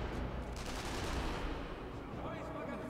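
Enemy gunfire in Sniper Elite V2, a steady dense rattle of shots and rumbling blasts at moderate loudness, with a voice talking partly over it.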